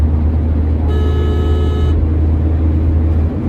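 A Tata Punch car driving at speed, with a loud, steady engine and road rumble throughout and a brief tonal whine in the middle.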